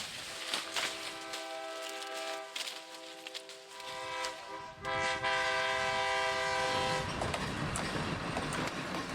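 Sugar cane train in the southeast of the Dominican Republic, a sustained horn blast over rumbling wheels, then louder clattering railcars rolling past close by.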